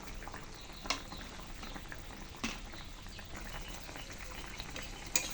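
Japanese puti fish stirred in a pan with cumin paste and ginger paste, giving a faint, steady bubbling sizzle broken by a few soft spoon scrapes.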